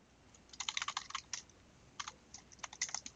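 Typing on a computer keyboard while writing code in GameMaker Studio 2, with two bursts of rapid, close clicking keystrokes separated by a short pause.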